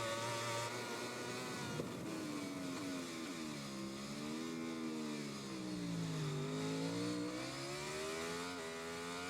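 Motorcycle engine in the MotoGP 20 video game revving hard and holding first gear, a steady buzzing drone that rises and dips in pitch throughout, alone with no talk.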